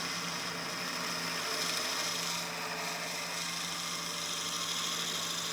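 A drill bit advances into a wooden whistle blank spun on a lathe at about 400 to 500 RPM, making a steady, continuous rasping grind that holds at an even level throughout.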